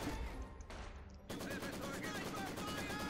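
Rapid bursts of Maxim machine gun fire in the Company of Heroes 2 battle game, a dense rattling stream running steadily through the clip amid other battle noise.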